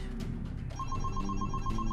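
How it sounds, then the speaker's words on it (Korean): A telephone bell rings in rapid repeated trills over a dense, steady background of other sound, moderately loud and continuous. "전화가 왔네요"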